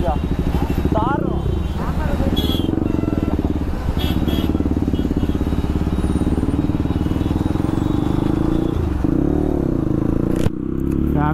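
Close and loud, a motorcycle engine stripped of its exhaust DB killer throbs and shifts in pitch, with brief clattering and people talking over the running motor.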